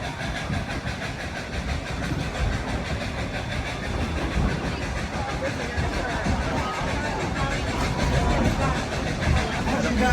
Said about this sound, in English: listen to the engine as it goes up the mountain